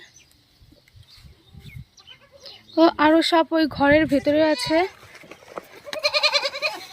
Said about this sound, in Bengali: ওই দেখুন বন্ধুরা ছাগল